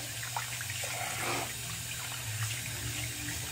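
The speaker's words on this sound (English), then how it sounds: "let me just kind of rinse my brush out a touch" Water runs steadily from a basin tap while a shaving brush is rinsed during a wetshave, a constant close splashing hiss with no talking.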